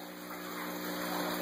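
Water pouring out of a bell siphon drain, a steady rushing gush that swells slightly louder as the flow builds, with a faint constant tonal hum from nearby equipment.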